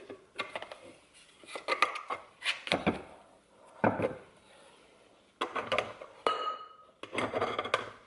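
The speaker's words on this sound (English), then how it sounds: "I am going to take my bench scraper" A bench scraper scraping sourdough out of a bowl, with short bursts of rough scraping and knocks against the bowl, close and moderately loud, separated by brief pauses; no voices.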